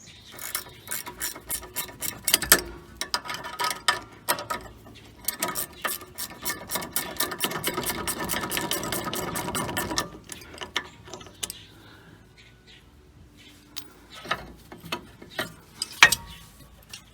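A ratchet wrench clicks rapidly in repeated bursts while undoing the thread-locked rear brake bolts on a GMC, the dense pawl ticking loud and close, pausing between runs before a few final quieter strokes.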